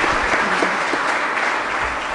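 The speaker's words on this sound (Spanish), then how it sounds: "Un aplauso" Congregation applause at a Spanish-language Sunday Mass, a dense, steady wash of many hands clapping that fills the entire short stretch with no speech.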